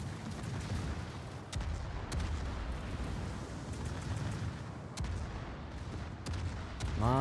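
Naval guns booming from warships in an online naval battle game, a dense and continuous barrage of heavy shots with sharp louder blasts punctuating the rumble throughout, closing on a rising whine.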